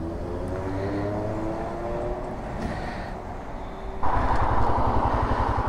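A Royal Enfield motorcycle on a road, its engine a steady droning hum that climbs in pitch, then jumps to a louder, rougher pulse as the throttle opens, heard close from the rider's position with no talking.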